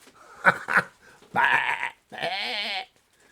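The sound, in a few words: person imitating a sheep bleating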